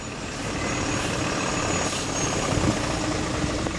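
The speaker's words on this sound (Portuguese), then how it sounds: "Quer ver se encontra um caminhão subindo." A truck labors up the Serra do Rio do Rastro mountain road, its engine a loud, continuous broadband roar close by that holds steady throughout with slight surges.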